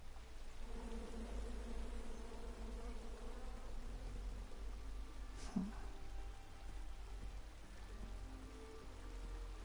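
Bees in the King's Quest video game drone in a faint, steady hum beneath a soft rain-like hiss, with one brief sharp tick midway and no speech.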